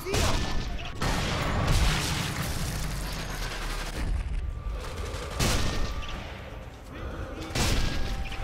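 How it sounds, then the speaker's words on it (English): Gunfire in the shooter game Sniper Elite 3, repeated heavy bursts and booming shots rolling over a noisy battlefield, some close and loud, with players talking over them at times. "I feel like somebody's way closer to us shooting"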